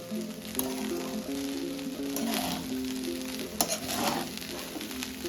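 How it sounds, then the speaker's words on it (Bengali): Rice for mixed non-veg fried rice frying and being stirred in a pan, a steady loud sizzle with scraping stir strokes and clinks of the spatula against the metal. "আর নাড়াচাড়া করতেই হবে, কারণ না হলে তলটা লেগে যাবে।"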